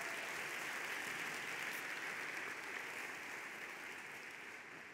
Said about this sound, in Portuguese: Dê uma salva de palmas por isso